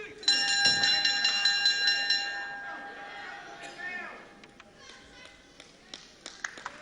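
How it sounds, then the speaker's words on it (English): A ringing bell closes a round of a UK professional wrestling bout, struck loudly a few times in quick succession and then left to ring out and fade, with a commentator talking over the crowd noise. "Right on the bell."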